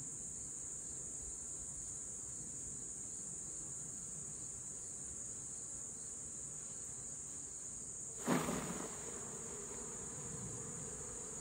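Honey bees buzzing steadily around a beehive frame as they are shaken into a container, a continuous insect drone with a short knocking thump near the end.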